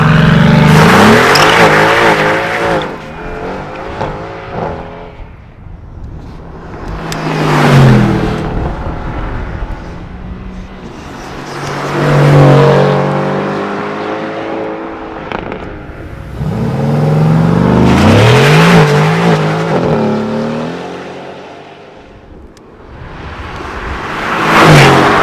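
RENNtech-tuned Mercedes-AMG GT R exhaust revving and accelerating during a drive, several loud surging pulls rising and falling with gear changes across the stretch, no talking.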